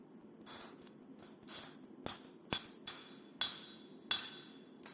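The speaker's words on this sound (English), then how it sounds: "Now I'll cut off the excess with another hardy tool." A hammer strikes hot steel resting on a hardy tool to cut away excess while forging a Bowie knife tang, about eight sharp ringing blows at an uneven pace, growing louder and fairly close, no talking.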